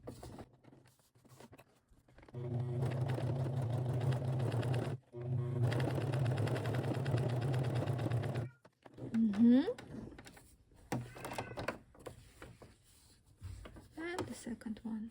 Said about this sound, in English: making sure that your sewing machine is okay with leather